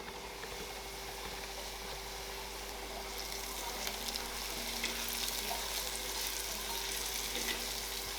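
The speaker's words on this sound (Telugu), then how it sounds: "ఉల్లిపాయలు లైట్గా వేగాయి" Medium-sized onion pieces frying in a pan for a country-style Telugu fish curry, a continuous close sizzle that brightens after a few seconds, with light stirring and no voices.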